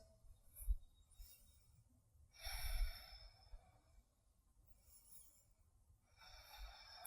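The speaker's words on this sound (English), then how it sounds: "keep breathing calmly in and out through the nose" Calm breathing in and out through the nose during a seated yoga posture, with slow, soft breaths, a few audible exhales and airy inhales at a steady, unhurried pace, close and quiet.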